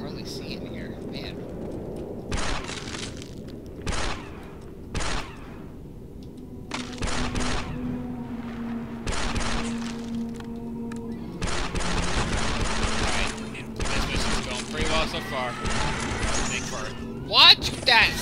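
Sniper shots and blaster fire ringing out in Star Wars Republic Commando, sharp repeated bursts spaced across the scene with a rapid volley near the end, mixed with in-game voices.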